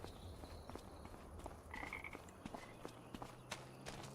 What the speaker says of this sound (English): so we can hear the frogs,